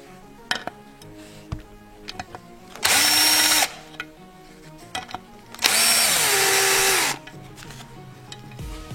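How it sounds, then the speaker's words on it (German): Two loud, sustained bursts from a power tool driving an 8 mm socket, unscrewing the oxygen sensor connector on a BMW E36/E46 during gearbox removal, with quieter clinks and workshop handling in between. "noch den Stecker von der Lambda-Sonde hier mit einer 8er Nuss abzuschrauben"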